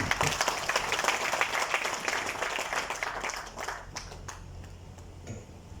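Audience applause at the inauguration of a new Phoenix Beverages production line, steady clapping from a seated crowd that gradually thins and fades toward the end.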